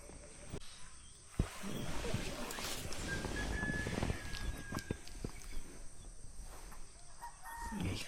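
A rooster crows in the early morning at a nature camp, faint and somewhat distant against quiet ambient background, with footsteps and soft human voices nearby.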